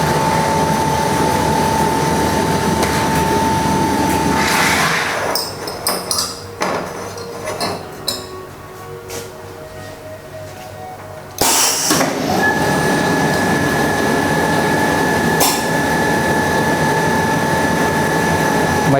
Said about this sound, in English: Operating the machine on the foot switch. The machine needs air compressor.